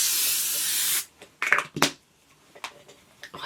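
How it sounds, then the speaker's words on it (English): L'Oreal Infallible setting spray misted from a can, one loud continuous close hiss lasting about a second, followed by a few faint handling clicks and rustles. "let me put this spray is the L'Oreal Infallible setting spray"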